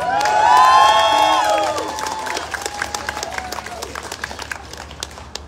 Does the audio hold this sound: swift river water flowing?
no